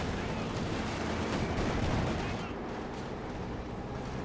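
Tank cannon shots trading fire in a Company of Heroes match, with a KV-1 taking hits from a Panzer IV: dense, continuous rumbling battle fire and distant blasts that ease off slightly partway through, under faint commentary.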